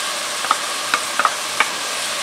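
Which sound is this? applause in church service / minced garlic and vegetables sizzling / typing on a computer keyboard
minced garlic and vegetables sizzling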